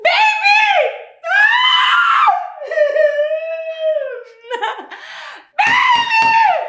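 A woman screams loudly and repeatedly in a tense domestic scene, several long, shrill, wavering cries close by with brief breaks between them and no other talk.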